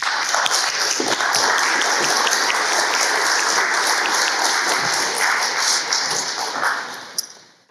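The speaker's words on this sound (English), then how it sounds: "can we give Tanya and Bob a big applause" Loud, dense applause for two people at a community meeting, many hands clapping steadily and close for several seconds before tapering off at the end with a final sharp clap.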